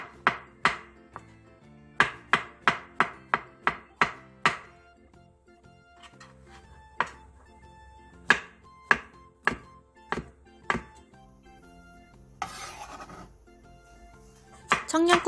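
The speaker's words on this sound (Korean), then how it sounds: "무 3cm 두께 한 토막을 먹기 좋은 크기로 나박썰기하고" A knife chops radish and shiitake mushrooms on a cutting board, with rapid runs of crisp, evenly spaced knocks and pauses between them, and a short scraping rustle near the end.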